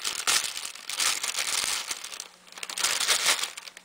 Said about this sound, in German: So, und dann mache ich die Tüte jetzt mal auf.